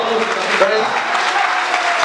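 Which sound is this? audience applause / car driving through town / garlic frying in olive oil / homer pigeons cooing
audience applause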